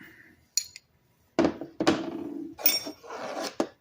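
Old Fairmont metal wrenches, adjustable and open-ended, are picked up and set down, giving a few sharp clinks and clanks followed by duller scraping handling noises, close and moderately loud in a quiet space.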